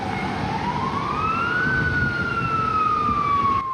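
A fire engine siren wails loud and near at a high-rise building fire, its pitch sweeping steadily up and then gliding slowly back down over road noise.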